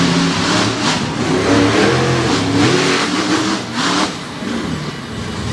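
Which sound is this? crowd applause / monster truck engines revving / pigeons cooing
monster truck engines revving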